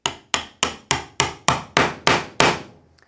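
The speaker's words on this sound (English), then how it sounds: "tap it down with our hammer" A hammer taps a wooden balance board piece down onto a dowel in nine quick, evenly spaced knocks. Each blow is sharp and close, growing slightly heavier toward the end, followed by a faint rattle.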